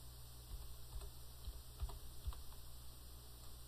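Keys on a computer keyboard are tapped while an invoice number is entered, a sparse run of soft, faint clicks spaced unevenly across a quiet, hissy room background with no talking.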